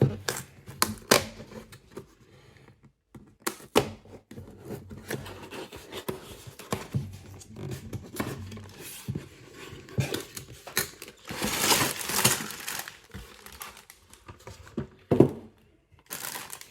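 Lego set 60348 lunar rover packaging being torn open and handled, with irregular bursts of crinkling plastic and cardboard rustling, close and fairly loud across the whole stretch, no talking.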